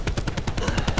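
A machine gun fires in Call of Duty Black Ops 4, sending out a rapid, evenly spaced burst of about ten loud, punchy shots within one second.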